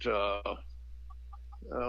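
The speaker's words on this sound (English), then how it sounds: "I got chickens up here in a tree" Hens roosting in a tree about twelve feet off the ground give a few short, soft clucks in a quick series between stretches of someone talking nearby.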